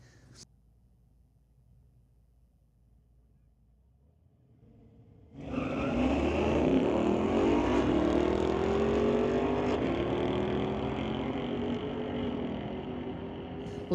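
A 2017 Chevy Camaro and a 2020 Mustang launching in a drag race: quiet idle for several seconds, then a sudden loud surge of engines revving hard and rising through gears, sustained roar to the end.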